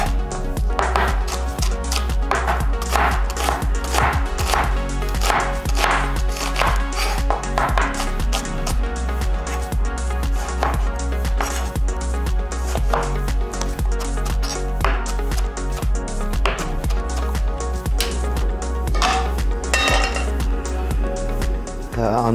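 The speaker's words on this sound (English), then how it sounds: "So let's get into this chopping." Vegetables being chopped with a knife for sweet chili turkey lettuce wraps, a close, loud run of sharp, rapid strikes on a board with occasional clinks of kitchenware.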